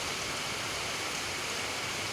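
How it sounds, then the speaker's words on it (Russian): Light rain just beginning to fall, a steady, even hiss of fine drops pattering on surfaces, continuous and soft without any voices. "Зарядил дождик."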